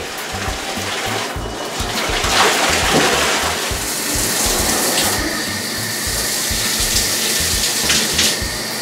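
Hot water runs from a bathroom tap onto a sponge during bathroom cleaning, a steady close splashing hiss with shifting gurgles as the flow hits the sponge, with no voice heard.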